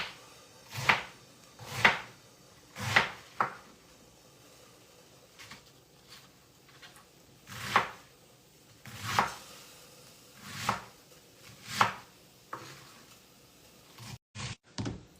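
Meat for pares being chopped with a knife, a slow series of about ten distinct solid thuds on a board at an uneven rhythm, close and fairly quiet, ending with a brief clatter.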